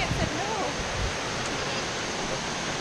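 Rushing water from Tolofofo Falls in Guam makes a steady, dense roar that fills the whole clip at an even level, with faint voices briefly audible near the start.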